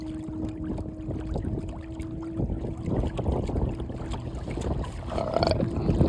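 A Newport NK180 HD electric motor at 70% power drives an Old Town kayak into the wind, a steady hum under water splashing and gusty wind noise on the microphone.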